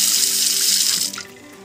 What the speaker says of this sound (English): So here I can get hot water now.